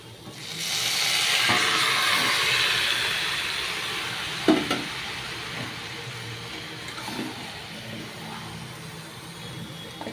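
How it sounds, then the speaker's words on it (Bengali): Cut fish pieces dropped into spice masala in a hot pan, setting off a steady broadband sizzle that swells early and then settles, with a few sharp clinks and stirring scrapes, no talking. "এবার কেটে ধুয়ে রাখা মাছটা দিয়ে দেবো।"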